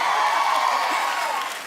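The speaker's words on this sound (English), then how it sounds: "you all clap no matter what" A television talk-show studio audience applauding, a steady wash of clapping at moderate distance that holds evenly and then tapers slightly at the end.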